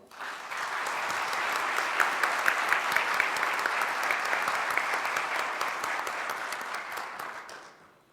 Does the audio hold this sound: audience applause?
yes